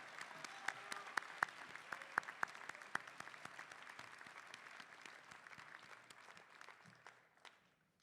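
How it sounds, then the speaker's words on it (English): A convocation audience applauds steadily for several seconds, a dense patter of claps at moderate distance that thins and fades out toward the end. "Let's give Mr. Garcia and your Class of 2030 banner a round of applause."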